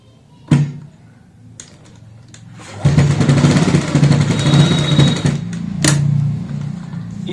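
An electric sewing machine topstitches along a garment neckline to attach a decorative cord. A few clicks come first, then a steady, loud mechanical whir runs for several seconds and eases off.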